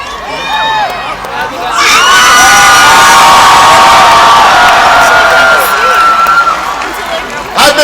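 A huge crowd at an outdoor Obama campaign rally in Madison erupts in loud, sustained cheering, shouting and whooping that swells and holds for several seconds before easing.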